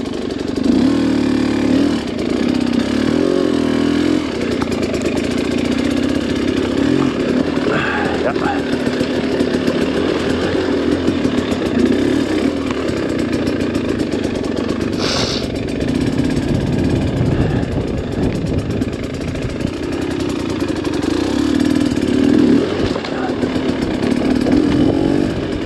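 A dirt bike is ridden alone along a single-track trail, its engine droning and buzzing loudly and continuously with shifts in revs. Wind roar runs throughout, and a voice talks over it now and then.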